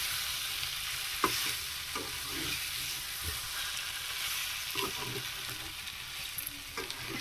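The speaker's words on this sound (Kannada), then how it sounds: "ಇವಾಗ ನಾನು ಸ್ಮ್ಯಾಶ್ ಮಾಡಿ ಇಟ್ಕೊಂಡಿರೋ ಆಲೂಗಡ್ಡೆನ ಹಾಕ್ತಾ ಇದ್ದೀನಿ ಇದನ್ನ ಚೆನ್ನಾಗಿ ಹಿಂಗೆ ತಿರುಗಿಸ್ಕೊಳ್ಳಿ" Smashed potatoes tossed with masala in a frying pan give a constant frying sizzle, with repeated scraping and knocking strokes of a spoon at irregular intervals and no talk.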